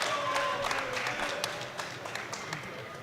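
Crowd cheering and clapping for a lifter at a European university classic powerlifting competition, a steady mid-level roar with scattered sharp claps and shouts throughout, voices mixed into the noise.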